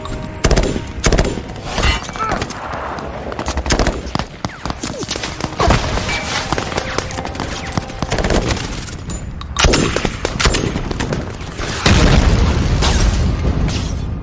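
Dense firefight from a war film as an American unit fights off dozens of approaching enemies: continuous gunfire and automatic bursts mixed with heavy booming explosions, loud and sustained for the whole stretch, with the heaviest blasts near the end.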